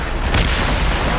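Mortar and cannon fire in Assassin's Creed Rogue: one loud, close, sustained booming blast with a deep rumble filling the whole moment, no voices over it.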